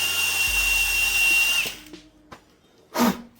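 A power drill whines steadily into driftwood for under two seconds, then stops, followed by a few small knocks and a short scraping burst.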